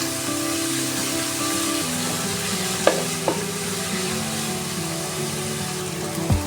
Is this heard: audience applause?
no